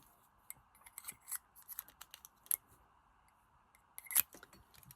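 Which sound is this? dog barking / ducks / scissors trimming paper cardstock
scissors trimming paper cardstock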